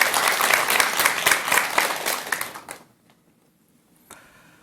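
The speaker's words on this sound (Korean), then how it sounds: "스님의 강연 큰 박수로 청해 듣도록 하겠습니다" A Buddhist lecture audience claps loudly for a monk's talk, a dense burst of applause that fades out after nearly three seconds, leaving near silence with a brief stray sound.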